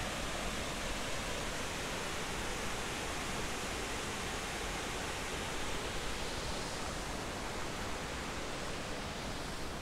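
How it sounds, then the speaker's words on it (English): Triple Falls, a waterfall in DuPont State Recreational Forest, gives off a steady, faint, broadband rush of falling water, even and unbroken throughout with no voices. "got the second waterfall, and then the third one down there"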